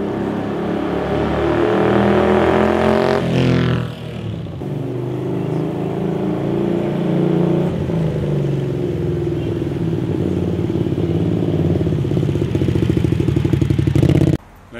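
Close Mirage 250 custom motorcycle engine running and revving, a loud rumbling drone with rising pitch near the start, steady throughout and cutting off at the end.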